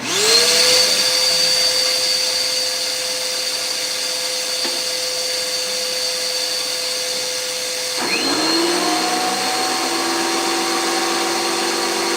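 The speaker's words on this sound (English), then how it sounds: "Let me get the vacuum turned on." A vacuum cleaner runs steadily in a woodworking shop with a loud, continuous whine, dipping briefly and then revving back up near the end.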